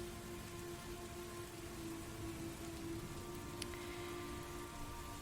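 Heavy rain falls as steady, dense hiss for a tabletop role-playing ambience, constant and moderately loud with a faint low rumble beneath and no voices.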